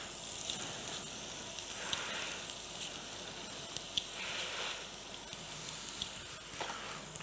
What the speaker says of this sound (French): On va faire revenir les carottes.